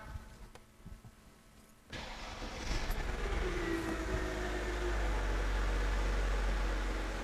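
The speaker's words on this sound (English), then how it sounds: "So I'm going to start the car" A car engine is cranked and catches abruptly, then settles into a steady low idle hum that continues without pause.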